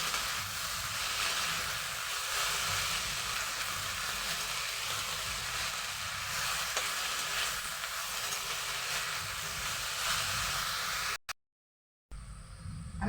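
Red spinach (lal shak) sizzles in ghee with a continuous frying hiss, close and steady, cutting out briefly near the end before resuming.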